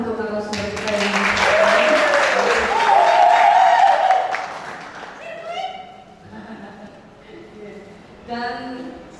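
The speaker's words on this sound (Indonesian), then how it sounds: "Tepuk tangan untuk narasumber kita" Audience applause for a guest speaker at a kethoprak discussion gathering, a burst of crowd clapping over the first few seconds with a voice talking alongside, then fading as speech continues.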